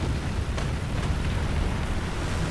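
Boom of a T-34-85 tank cannon shot in the War Thunder video game, a loud, dense low rumble filling the whole short moment, with no speech over it.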